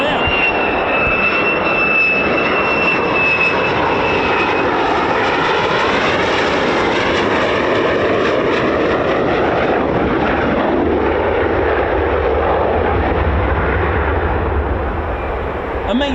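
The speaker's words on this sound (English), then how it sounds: "Here comes an F-35" An F-35 fighter jet flies over RAF Lakenheath, a loud continuous jet roar that builds and sweeps past with a shifting whine for the whole stretch, close and powerful.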